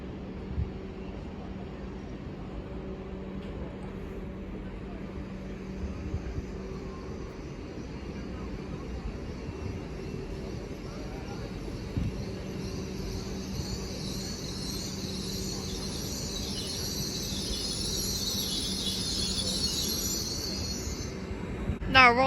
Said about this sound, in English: Now arriving is the 12:05 Great Western Railway service from Penzance to London Paddington